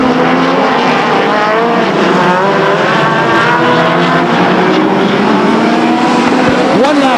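A pack of race cars roars down the backstretch at Stockton 99 Speedway, engines howling loud and continuous as they pass close by. A track announcer's voice sits under the engine noise.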